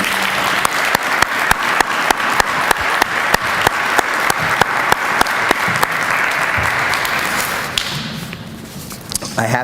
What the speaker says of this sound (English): Can we give Mayor Laura Kropp another round of applause?